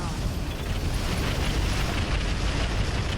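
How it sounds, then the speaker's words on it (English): A slug ammunition explosion in the RogueTech mech combat game: a dense, loud roaring blast that rumbles on steadily without a break for the whole stretch. "Slug ammo explosion."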